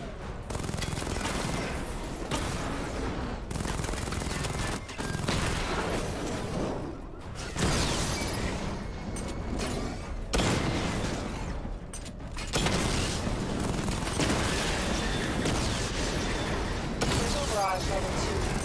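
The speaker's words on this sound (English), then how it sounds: "Charge up missile barrage to level 2 and destroy 4 active targets to complete diagnostic test." Rapid missile barrage fire in Batman: Arkham Knight, a dense run of booming blasts and mechanical clatter that rises and falls in waves for the whole stretch, loud and continuous with game voice chatter mixed in.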